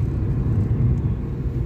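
On a steep mountain road, a car gives off a constant low rumbling drone from its engine and road noise. The sound is close and unbroken, with no voices.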